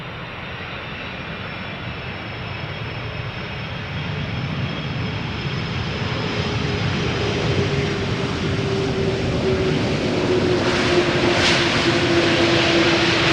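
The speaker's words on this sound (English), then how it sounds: "If the airplane doesn't get loud, then Austrian Wolf will get loud." A nine-year-old airliner arriving at Amsterdam Schiphol Airport on a sunny July day, its steady engine roar building gradually and slowly rising in pitch as it draws nearer, alone without any talk.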